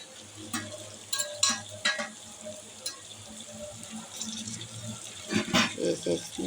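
Masala frying in ghee for biryani is stirred in a pan over a low flame, with a gentle sizzle under scraping spoon strokes and clinks, while a voice talks over it.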